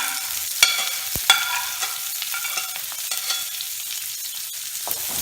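Onion, ginger, garlic, curry leaves and green chili sauté in hot oil, giving a bright continuous sizzle with occasional sharp stirring clicks, close and fairly loud.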